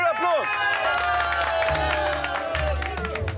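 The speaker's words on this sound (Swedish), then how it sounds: "En stor applåd!" A studio audience claps for a quiz winner on a Swedish lottery TV show, a steady patter of hands under a bright musical jingle that fills the whole stretch.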